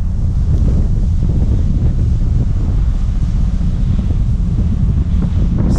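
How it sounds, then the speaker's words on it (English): Strong wind buffets the microphone on a boat heading toward a volcano near Kagoshima, Japan, a constant loud low roar with steady gusting throughout and no talking. "since we are on the boat, it's going to be somewhat windy"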